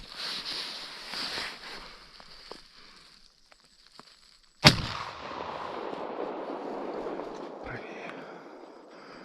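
A single sharp, loud shotgun blast rings out midway through during a late-autumn duck hunt, following a stretch of outdoor ambience with muffled voices, then a rumbling echo trails off.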